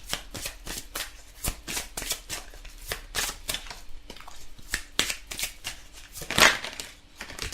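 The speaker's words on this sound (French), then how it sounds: "Alors, on va prendre quelques cartes du chakra du cœur." Heart chakra oracle cards are shuffled and drawn close by: a fast, steady run of crisp riffling flicks and slaps, with a louder snap near the end as a card is pulled.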